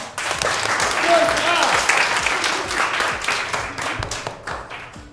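A school audience gives loud, dense applause that fades off toward the end, with a voice mixed in.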